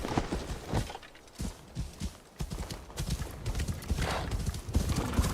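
A horse in a video game gallops with busy, irregular clip-clop hoofbeats and breaks into loud neighs, the hooves pounding continuously close by with no speech over them.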